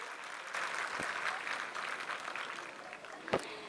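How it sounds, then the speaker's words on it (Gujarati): An audience at a school annual function gives a round of applause, the clapping fairly faint and distant, steady for a few seconds with a sharper knock near the end. "બધા જ એકવાર ફરીથી તાળીઓના ગડગડાટથી વિદ્યાર્થીઓના ઉત્સાહને વધારીશું."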